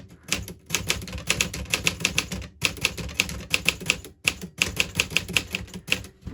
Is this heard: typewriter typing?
yes